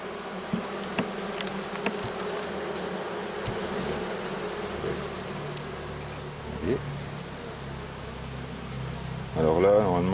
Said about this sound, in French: il y en a trop d'abeilles